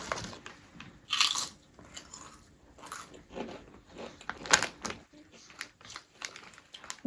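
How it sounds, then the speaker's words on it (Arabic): Sharp crunchy bites and chewing of a sweet pepper flavoured Egyptian snack, close to the mouth, in repeated bursts with brief pauses and some bag crinkling. "يلا بينا ندوقوا طعمه."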